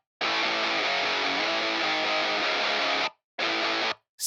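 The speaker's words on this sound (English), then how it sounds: "Sick new metal riff that I came up with" Heavy distorted metal guitar riff played through an Amped Roots amp simulator plugin, a dense saturated wall of chugging chords lasting about three seconds, then a short burst after a clean stop.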